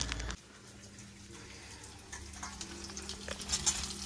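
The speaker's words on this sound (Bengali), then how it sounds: "পাস্তা হয়ে গেছে ভাজা," Pasta frying in a pan in a busy kitchen, a steady low sizzle running throughout with a few brief clatters near the end, no voices.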